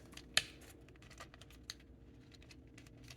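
A plastic Transformers Legacy United Gears deluxe figure part folds into place with a sharp click near the start and a second lighter click later, faint and close against quiet light handling noise.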